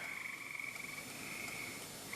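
A frog croaks steadily on a road at night, a continuous rattling call running throughout at moderate distance with a faint background hum.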